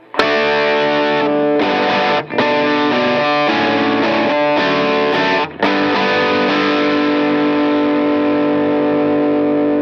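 Electric guitar through a Line 6 POD Go overdrive chugs loudly and continuously, with thick distorted chords and brief pauses between phrases, no talking.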